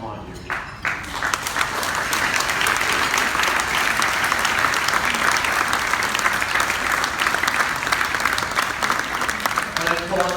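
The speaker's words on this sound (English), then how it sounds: "So I applaud you." Sustained applause from an audience at an auction gala fills the room, a dense, even wash of clapping that continues steadily for the whole stretch with a brief quieter start.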